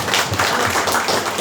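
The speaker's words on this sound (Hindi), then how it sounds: "जोरदार ताली बजाओ." A church congregation clapping loudly together during a service, a dense continuous patter of many hands close by, with no speech.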